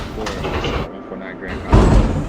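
Pneumatic sliding doors of an NYC Subway R142A train closing in the OpenBVE simulator, a brief hiss and thud over steady train rumble with radio-style talk around it.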